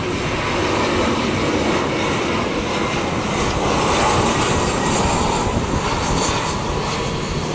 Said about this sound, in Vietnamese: chiếc máy bay đang bước vào hạ cánh tại sân bay Tân Sơn Nhất